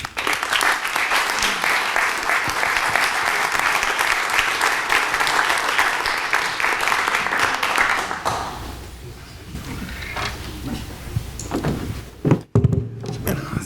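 Audience applause at a book presentation, a dense, steady clapping that fills the room for about eight seconds before thinning out, followed by a few scattered thumps and knocks.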